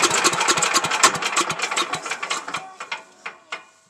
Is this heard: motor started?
yes